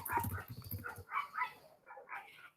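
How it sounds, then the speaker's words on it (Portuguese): A dog barks and whimpers excitedly in a home, several short yelps and whines in quick succession, fairly close and moderately loud, with no talk over it. "minha cachorra está um pouco exaltada"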